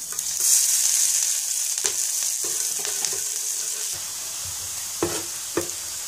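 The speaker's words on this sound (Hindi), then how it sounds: "ये तेल गर्म हो गया, अभी मैं इसमें लहसुन मिर्ची और अदरक जो काट के चॉप काट के रखा था वो डालने जा रहा हूँ" Chopped garlic, chili and ginger sizzle in hot oil, a steady bright hiss with occasional pops and stirring clicks, close and fairly loud, with no talking.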